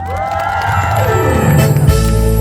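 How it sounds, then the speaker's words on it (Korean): Crowd cheering and whooping at a live outdoor festival concert, a loud sustained roar of voices with tonal music underneath, swelling slightly toward the end. "사정없이 박수와 함성을 한번 보내주시면 되는데 가능하실까요?"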